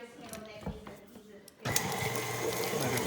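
A stand mixer with a paddle beats thick coffee cake batter. After a short stretch of clicks and handling, the motor starts midway and runs on with a loud, steady whir, close by.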